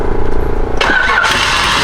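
A car engine on a dead battery cranks and catches on a jump start, a loud broadband whoosh rising out of a steady low rumble, then settling into a running engine.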